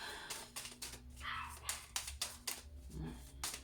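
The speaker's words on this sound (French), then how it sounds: "vous entendez ma petite cannelle qui aboie." A small dog barks in short, sharp bursts, close by, over a steady low hum and faint background noise.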